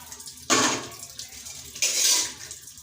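Tap water runs in two short gushes while something is washed, each lasting about half a second, with faint clinks in the quieter gaps.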